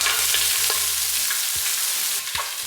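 Cabbage with red bell pepper, thyme sprigs and yellow onion sizzles in coconut oil in a pan for Jamaican cabbage, a steady close frying hiss with soft stirring knocks throughout.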